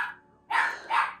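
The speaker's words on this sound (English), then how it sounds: "oh puppy" A puppy lets out two quick, sharp barks close by in an indoor craft room, with a short gap between them and no talking.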